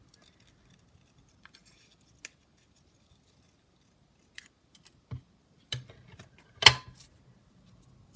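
Scissors snipping through a brown paper bag circle, trimming it down for a handmade paper flower; a few sparse, quiet, close snips and rustles spread over mostly silent moments, with the loudest cut near the end.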